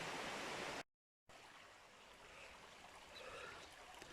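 The River Ogden flows with a soft, steady rush, faint and continuous apart from a short break of silence, with no voices.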